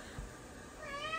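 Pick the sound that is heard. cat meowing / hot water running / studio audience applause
cat meowing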